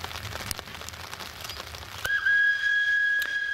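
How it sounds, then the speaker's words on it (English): A narrow-gauge steam train on the Sargan 8 mountain line in Serbia, approaching Chitara station, sounds a single long, steady whistle, starting abruptly about halfway through and holding loud and clear over a rain-like background hiss. "The driver whistles to let the staff at Chitara station know we are approaching"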